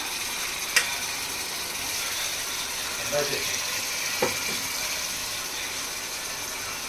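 Tomato puree made from three tomatoes is added to a pan for crab curry and stirred, giving a constant soft sizzle with a few sharp scraping clicks from the spoon.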